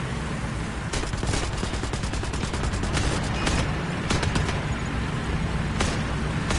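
Tank gunfire in War Thunder, rapid overlapping bursts of shots and machine-gun rattle firing continuously and loudly, with a few heavier cracks standing out through the dense volley.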